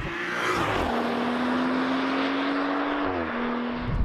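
A BMW M135i engine roars loudly and continuously, its pitch holding steady, then shifting as it revs near the end.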